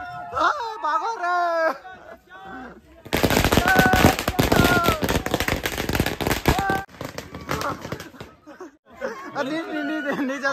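A long string of firecrackers crackles in rapid, dense bursts for several seconds, with excited shouting from people before and after.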